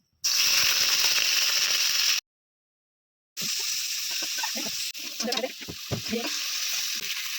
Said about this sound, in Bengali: মাংসটাকে একটু হালকা করে ভেজে নিতে হবে এবার মাংসটাকে দিয়ে দিচ্ছি